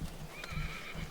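A horse neighs at a wilderness camp, a short, faint whinny heard at a distance with a few soft hoof clops underneath.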